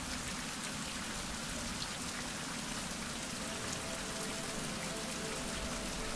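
Steady, dense rain patters down without a break, a broad hiss of drops hitting surfaces, with no voices.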